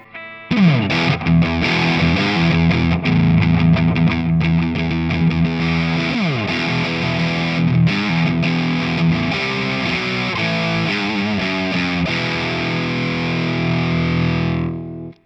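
Telecaster electric guitar played through a Vox Night Train 15H G2 valve head on a high gain setting: about fifteen seconds of continuous distorted chords and riffs, loud and dense, with no talk.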